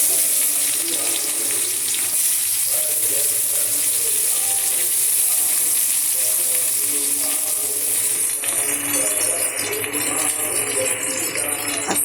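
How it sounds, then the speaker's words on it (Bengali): Onions fried in a wok with ghee, bay leaf and cumin, giving a steady, loud, continuous hiss and sizzle from start to finish, with no talking. "এবার আমি কড়াইতে দিয়ে দিলাম পেঁয়াজ"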